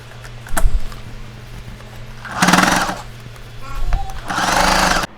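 A sewing machine stitches a wide folded hem on tailored shorts in two loud, rapid bursts, separated by quieter pauses filled with handling noise and brief talking.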